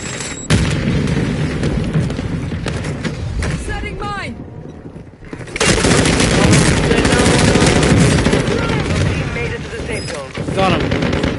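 Video game firefight with a thrown Semtex grenade: loud, continuous gunfire and booming blasts fill the mix, with a short lull before the barrage resumes.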